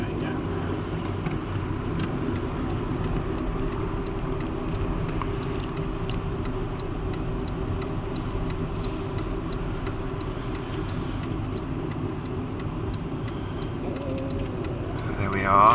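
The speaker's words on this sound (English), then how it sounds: "cars are going down" Cars drive along a road near Twickenham Stadium, heard as a steady broadband traffic rumble from inside a moving vehicle, continuous and fairly loud with a brief louder swell at the end.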